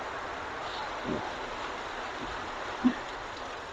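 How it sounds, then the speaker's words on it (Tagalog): Heavy rain pours outdoors during a dog bath, a dense, even hiss filling the whole stretch with a couple of faint knocks and no talking. "Ang lakas ng ulan."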